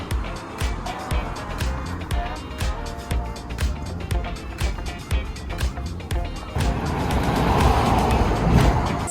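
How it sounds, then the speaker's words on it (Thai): A car on the road in Tokyo rumbles with repeated thumps and passing swells, growing louder and denser toward the end, with faint voices underneath. "อันนี้รถที่ว่าเราจะนั่ง"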